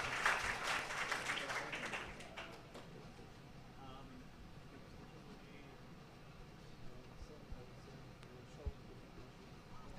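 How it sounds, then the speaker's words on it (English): Applause at the end of a university talk on tunnel ventilation and ocean mining opens with a dense burst that fades within a few seconds, leaving quiet room noise and a voice. "Three round of applause"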